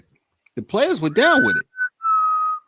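A person whistles a few short tonal notes on a podcast, brief pure tones following a stretch of clear talk, close and fairly loud, with a longer sustained whistle at the end.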